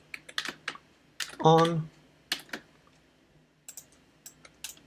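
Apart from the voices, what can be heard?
typing code on a computer keyboard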